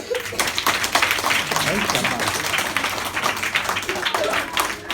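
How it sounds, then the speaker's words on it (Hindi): Children clap for themselves at a free education centre's National Science Day event, a scattered patter of small hands running steadily throughout, with voices and chatter mixed underneath. "सब बच्चे तो ताली बजाओ अपने लिए"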